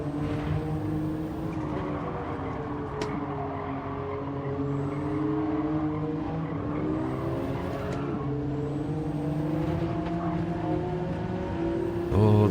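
Race car engine in a racing video game, a steady high-revving drone with shifting pitch that holds loud and continuous throughout, with no talking.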